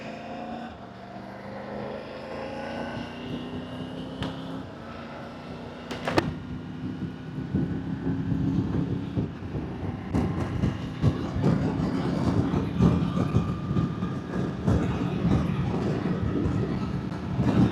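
A motorbike rides at speed with steady engine drone and rushing wind noise that builds and grows rougher over the ride, captured close on a DJI Mic Mini with high noise cancellation.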